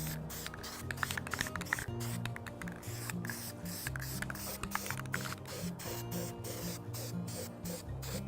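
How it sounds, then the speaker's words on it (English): Short bursts of flat white spray paint hissing from a can onto a paint can's lips, repeated in quick irregular pulses, close up with faint clicking and no voices. "I'm just going to spray the top lip and the bottom lip."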